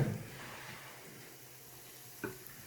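Butter in a pan on a flat top griddle at very low heat gives off a soft, steady, faint sizzle, with one small clink partway through.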